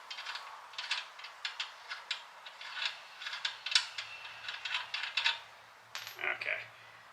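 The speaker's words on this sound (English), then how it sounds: "We're gonna take off the castle nut that's there" A castle nut is removed from the front brake assembly of a 1969 Oldsmobile Cutlass during a disc brake conversion, giving a close, quick run of light metallic clicks and ratcheting taps with brief pauses.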